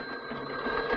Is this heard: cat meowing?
no